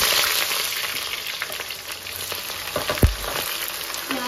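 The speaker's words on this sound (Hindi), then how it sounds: "ऑयल गर्म हो गया और मैंने इस साइज़ की दो प्याज काट ली हैं और वो मैं इसमें डाल दी है।" Two sliced onions hit hot oil in a karahi and fry with a steady, close broadband sizzle, broken by a single soft thud of stirring near the middle.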